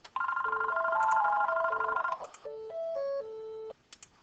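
An electronic telephone ringtone plays alone in a quiet room, a bright repeating melodic trill of steady tones for about two seconds, then a second burst of stepped tones, ending with faint clicks.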